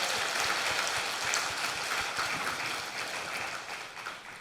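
A congregation at a Sunday church service applauding, a thick steady wash of clapping that fills the room and eases off slightly at the end.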